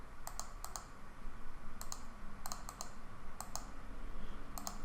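Contact details typed on a computer keyboard, bursts of crisp, close key clicks in small clusters separated by brief pauses over a steady low background hum, no speech.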